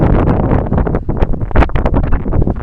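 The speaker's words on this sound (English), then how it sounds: "The wind isn't cold particularly." Seaside wind at Selsey buffets the microphone in loud, gusty rumbles, continuous and close, with no voices.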